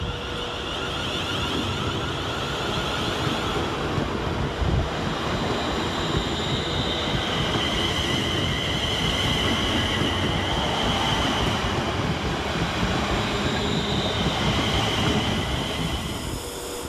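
A London Northwestern Railway class 350 train rumbles steadily out of Stafford station with rolling wheel noise and faint squealing, loud and close, continuing without pause, no voices.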